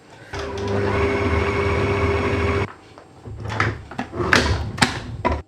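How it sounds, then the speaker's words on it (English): Hauswirt HM780 stand mixer running with the paddle attachment, a steady motor whir for about two seconds before it stops, followed by a few clunks and knocks. "I'm just going to use the paddle to mix everything together quickly"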